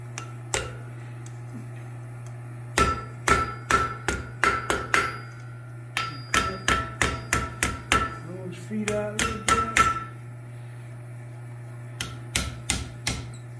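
Blacksmith hammering hot metal on an anvil while forging a lizard from a block, sharp ringing strikes in quick bursts of several blows separated by short pauses, close and loud over a steady low hum.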